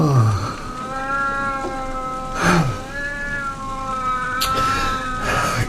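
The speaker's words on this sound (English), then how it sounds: "That damn cat of yours, get him out" A cat gives several drawn-out, wavering meows, loud and close, over a constant background hum aboard a ship.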